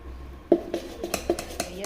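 Ground rice and urad dal dosa batter being mixed in a steel vessel, a series of clinking, scraping spoon strokes at an uneven rhythm, close by, with faint voices underneath.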